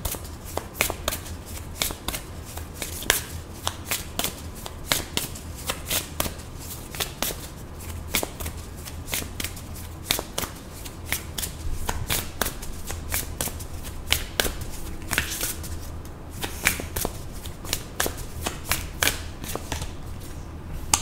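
A deck of oracle cards is shuffled by hand in a steady run of crisp riffles and flicks, close and continuous with no talking.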